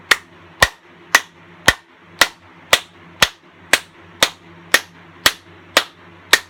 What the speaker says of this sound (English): From here, let's smack our hands together.